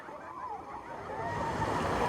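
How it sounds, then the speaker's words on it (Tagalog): Strong ocean waves at a beach surge and wash steadily, a broad, rising roar of surf that grows louder toward the end, with no talk over it. "Lakas ng alon."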